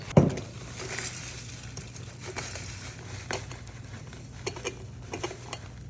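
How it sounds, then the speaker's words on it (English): Dried garden produce crushed by hand gives faint, irregular crackling and rustling crunches, soft and close with a low steady hum beneath. "But I'm just going to kind of crunch these up."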